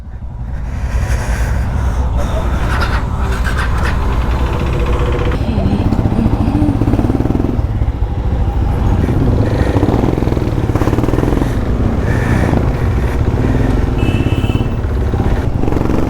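A motorcycle rides along a road with a steady, loud engine drone and road rumble throughout, accompanied by wind and some clatter. Voices can be heard speaking over the engine noise.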